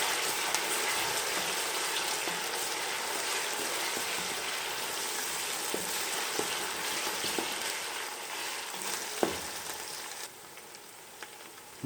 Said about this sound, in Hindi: हमने लहसुन अदरक को भी भून लिया, ये आप देख सकते हैं।